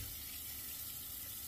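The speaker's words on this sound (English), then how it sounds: "Let's rinse, man. You got suds everywhere." Water runs steadily from a tap while a shaving brush is rinsed, a soft continuous splashing hiss with no talk.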